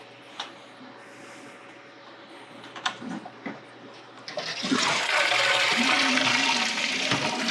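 Beer wort draining from a brewing kettle while making a bourbon barrel aged pumpkin beer: a few scattered knocks and clunks, then a sudden loud, continuous rush of liquid that keeps pouring steadily to the end.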